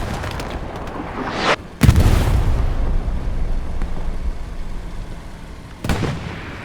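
Artillery explosions in a strategy video game: a heavy boom near the two-second mark rolls into a long, dense rumble, followed by a second sharp burst near the end. No voices.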